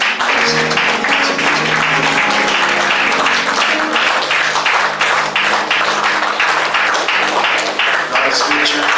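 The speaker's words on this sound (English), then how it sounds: "We'll give a clap offering to God." A church congregation at a Bible study claps loudly and steadily as a clap offering to God, a dense sustained roar of hands with faint voices and a held musical tone underneath.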